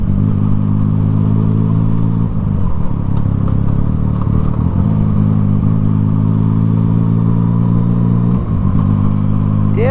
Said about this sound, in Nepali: त्यो बाइक चलाउँदा त यसको साउन्ड सुनेपछि